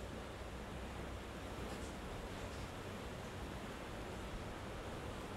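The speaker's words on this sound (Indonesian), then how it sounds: "Kok hujannya makin gede kayaknya." Heavy rain falling steadily, a dense, even hiss that continues without pause at a low level.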